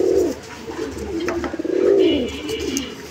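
A pair of pigeons at a breeder's farm coo softly in repeated low, throaty rolling calls, close by and fairly quiet, with faint background noise and no talking.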